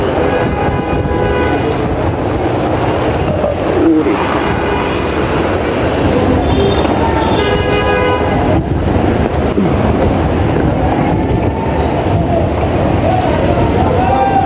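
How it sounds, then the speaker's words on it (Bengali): A train runs along rain-flooded railway tracks in the capital during Cyclone Remal, a loud continuous rumble and rattle of wagons with brief horn toots, rain noise and a voice speaking over it. "আর এই পানির মধ্যে দিয়েও ট্রেন ঝুঁকি নিয়ে চলাচল করছে"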